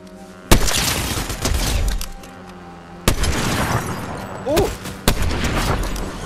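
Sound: sniper rifle gunshots in Fortnite video game

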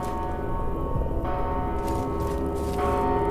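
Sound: bell ringing repeatedly in the video game Mortal Shell

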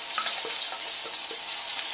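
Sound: curry paste frying in a hot pan

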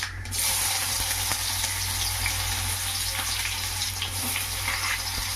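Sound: onions frying with mustard seeds and urad dal

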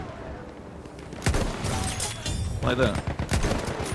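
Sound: gunshots in Battlefield 1 video game

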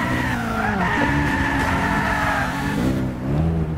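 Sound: BMW car driving and skidding in Gran Turismo 6 video game

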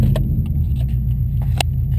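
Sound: Subaru STI engine starting and idling

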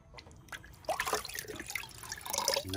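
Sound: rinsing a cleaned fish under running water

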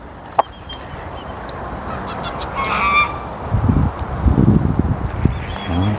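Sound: flock of geese honking

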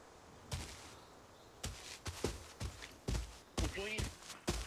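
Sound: gunfire in Arena Breakout video game

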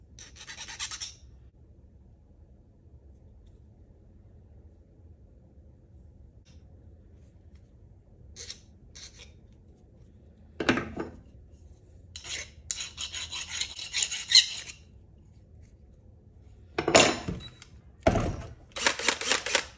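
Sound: filing relief into jaw harp frame

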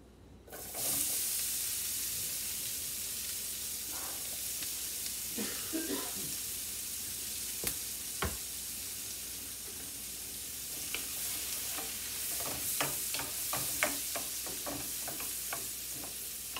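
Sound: onions sizzling as they fry in a pan

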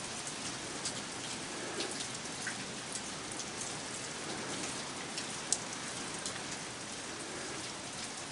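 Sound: pouring rain

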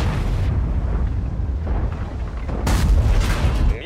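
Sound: tank cannon shot in video game

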